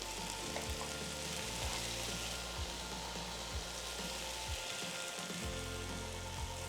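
Meat frying for a toasted sandwich gives a steady, dense sizzle with scattered pops and occasional clicks of stirring, close and continuous with no talk.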